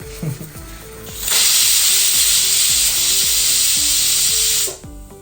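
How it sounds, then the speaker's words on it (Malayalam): A pressure cooker on the stove, cooking chicken curry, lets out one loud, steady steam hiss for about three seconds, close by. It then cuts off abruptly, with faint rhythmic background sounds underneath. "കുക്കർ സീറ്റ് കയറുന്നുണ്ട്,"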